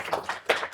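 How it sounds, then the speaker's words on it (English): A brief spatter of a few hand claps from an audience at a student seismic design project presentation, several quick uneven claps close by, cut short after less than a second. "if you could just give them a round of applause for me"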